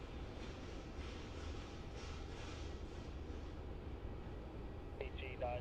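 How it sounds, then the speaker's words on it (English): An Embraer E190 or E195 jet on contract for Qantas departs Melbourne Airport for Townsville, a steady broad engine roar held at a distance throughout, with a brief burst of radio chatter near the end. "This is an Embraer E190 or E195, I think,"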